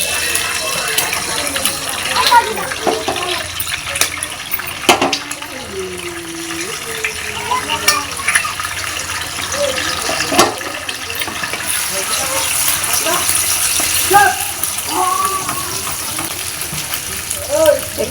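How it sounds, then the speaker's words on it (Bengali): Two eggs fry in hot oil in a pan, giving a continuous sizzling hiss with bursts of crackle, close by, while someone talks over it at times. "ডিম দুটোকে আমি ভেজে নেব আগে।"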